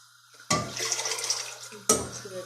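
A spoon stirs soup in a pot, with two sharp metallic clinks against the pot, each followed by soft sloshing and scraping of liquid in a quiet kitchen.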